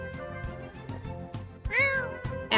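A pet cat meows in The Sims during character creation, two clear meows over a light, rhythmic background beat.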